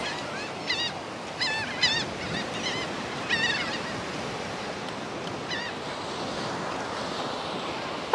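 Ocean surf breaking steadily on a Gulf Shores, Alabama beach, a loud continuous wash of waves under gusty wind buffeting the microphone, with a few distant bird calls near the start.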